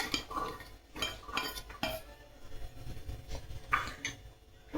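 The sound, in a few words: soaked sabudana being scooped into a bowl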